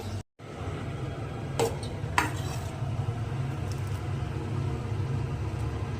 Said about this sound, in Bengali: এগুলোর এক সাইড ভাজা হয়ে গেছে, এবার আলাদা সাইডটা আমি ভেজে নিচ্ছি